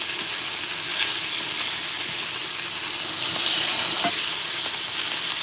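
Meat searing in a hot pan gives a steady, close sizzle and hiss that holds evenly throughout, with faint crackles and no talking.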